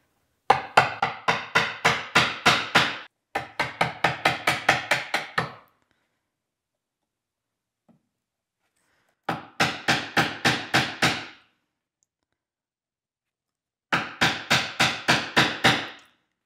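A chisel cuts wood for dovetails with rapid bursts of sharp, loud taps, four groups of quick strikes separated by silent pauses, no voices.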